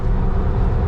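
A car engine picking up speed while towing a load, a steady low rumbling drone close by, brief and continuous without any rev change.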